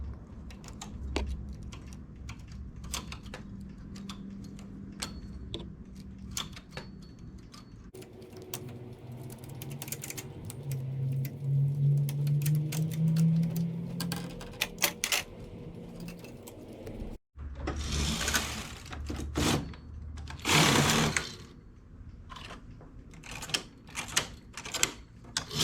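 A domestic knitting machine works a baby bootie, its carriage producing repeated clacks and rattling sweeps with uneven pauses, close and fairly quiet, including a pair of louder swishing passes near the end.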